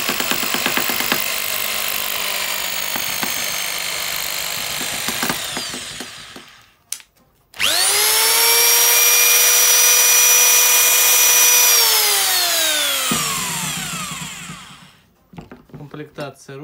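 A power drill in plain drilling mode whirs loudly up to speed, cuts out, then spins again with a steady high whine before winding down, with a voice heard briefly.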